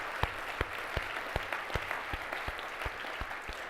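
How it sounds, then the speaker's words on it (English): An audience at a conference session applauds its speakers, with steady crowd clapping and a series of sharper, louder claps punctuating the wash at a regular pace. "giving our stellar speakers a really big round of applause for a great effort today"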